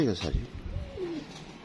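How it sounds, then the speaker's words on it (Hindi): Pigeon cooing close by, a short low burbling call heard under a voice speaking. "छोटी नोक का कबूतर"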